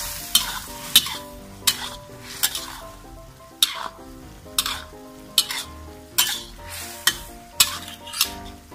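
Mushrooms stir-fried with oyster sauce crackle in a pan while a spatula scrapes and knocks against the metal in a regular rhythm, roughly a dozen sharp strokes over a continuous sizzle.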